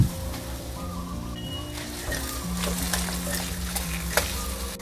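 Bok choy goes into a pot of hard-boiling water, giving a dense, crackling bubbling and sizzling hiss that runs throughout, with soft background music underneath.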